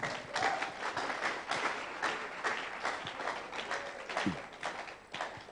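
A church congregation clapping during a live prophetic ministry service, an uneven, fairly dense patter of many hands with individual claps standing out, steady in level throughout.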